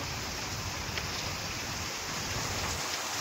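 Steady rain falls outdoors as a dense, even hiss of drops, loud and unbroken for the few seconds, with no voices.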